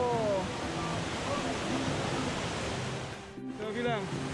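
Jumog waterfall on a mountain slope in Karanganyar, a steady, broad rushing roar close by, with people talking over it.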